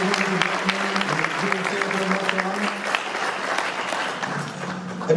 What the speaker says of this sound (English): let's get another hand clap today for today's ceremony